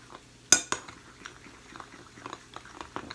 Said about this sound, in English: pour a little bit in there and then stir